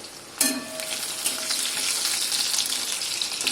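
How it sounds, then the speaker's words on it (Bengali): Green chilies fry loudly in a hot pan, a steady close sizzle that flares up suddenly with a clank and then crackles on without pause. "লঙ্কাটা একটু ভাজব"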